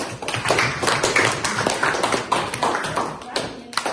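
Schoolchildren clapping for one another in a classroom, a quick uneven patter of many small hands continuing for several seconds, with bursts of louder claps and children's voices mixed in.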